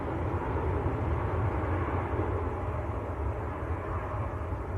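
Airbus A320 at Manchester Airport heading to Heathrow: a steady broadband engine roar, fairly distant and continuous, with no voices over it.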